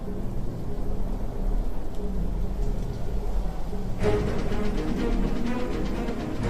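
A storm with pouring rain and thunder, a dense continuous roar of rain with a low rumbling underneath and a brighter surge of downpour about two-thirds of the way through, loud and unbroken.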